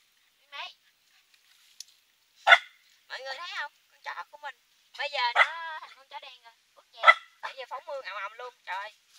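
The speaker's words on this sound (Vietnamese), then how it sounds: "Con chó của mình bây giờ nó" A dog barks in sharp, repeated yelps and bursts, close and fairly loud, scattered irregularly across several seconds outdoors near a shore where mussels are gathered.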